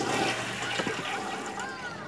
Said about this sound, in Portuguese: Deu descarga sentada na privada.